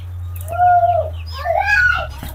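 A small native chicken chick, held in the hand on a poultry farm, gives a couple of clear close calls over a steady low hum.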